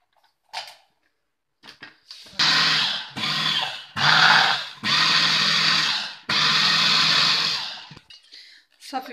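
An electric mixer whirs in several loud bursts, separated by short pauses, as it blends macaron ingredients with sugar.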